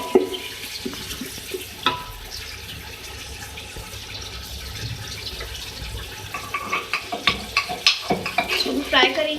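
Ginger garlic paste fries in a pan for chicken pulao, a close sizzle under repeated scraping and stirring strokes that grow sharper and more rhythmic toward the end.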